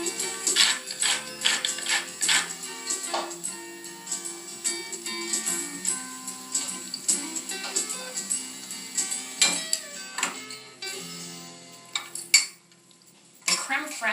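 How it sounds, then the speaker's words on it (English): Potatoes are mashed with creme fraiche in a pot, making a series of close, soft squelching taps and scraping clinks of utensil against cookware in an uneven rhythm, with a brief pause near the end. "Creme fraiche melts into the potatoes as I mash them"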